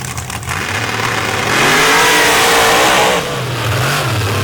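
A drag racing car at a championship round in Missouri launches and accelerates hard down the track, its loud engine roar climbing steadily in pitch, with a brief dip before it surges again.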